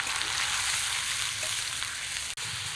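Steady, loud sizzling of a wet ginger, garlic, onion, green chilli, cumin and coriander paste with a splash of water frying in a pan for a goat liver chorchori, continuous and close with no talk.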